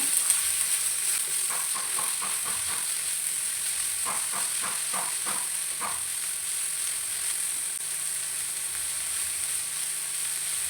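Tomatoes sauté in a pan for chicken green masala with a steady, close sizzle throughout, and a few bursts of soft stirring scrapes and clicks break through the hiss.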